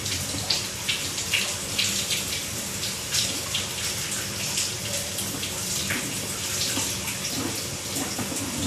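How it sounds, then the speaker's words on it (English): Water from a running bathtub flows down a sanitary sewer line, heard as a continuous rushing gurgle with faint irregular splashes, steady and moderately loud throughout. "I do have a bathtub running, quite a lot of water down the line right now"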